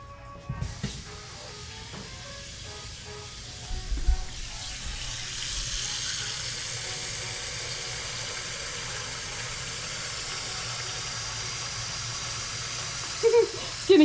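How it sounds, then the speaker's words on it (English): Tap water runs steadily into a pot being filled for duck stock, a continuous close hiss and rush that deepens slightly as the pot fills, with a few clanks near the start and end. "And fill it up with water right quick."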